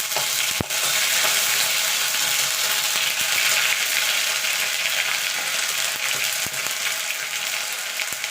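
Whole cumin seeds, a dried chilli and a little ginger crackle and sizzle in hot oil for a radish dish, a steady dense frying hiss with a few sharp pops, close and continuous without talk.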